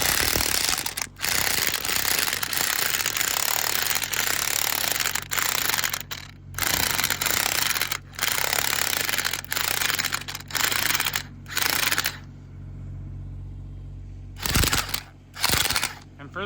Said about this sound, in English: a fucking impact wrench has the most amount of torque on the first fucking jolt